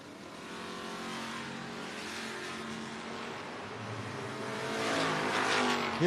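Drag race car roaring down the strip at a No-Box 660 Shootout, a Chevelle against a four-eyed car with a big-inch Ford engine, steady engine drone swelling louder toward the end, no talk.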